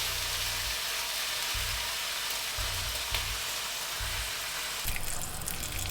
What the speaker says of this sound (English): with this hot pan, we can actually throw in our bacon